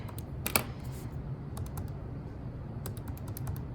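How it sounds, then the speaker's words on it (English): Buttons are pressed on a calculator, giving short bursts of quick, close clicks and taps in small clusters, with a brief pause between the groups and no talking. "Now you can type this directly in your calculator."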